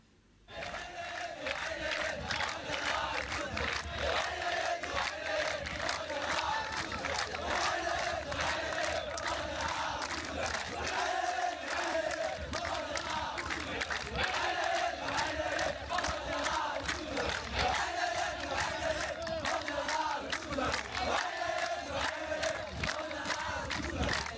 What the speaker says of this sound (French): Les jeunes recrues, alignés en rang serré, ont chaleureusement salué le départ du CEMGA par des acclamations enthousiastes.